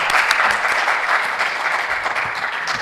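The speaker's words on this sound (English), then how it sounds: "Let's clap for them." Audience applause at a live university business quiz championship, a dense, even burst of clapping from a sizeable crowd, close and loud throughout.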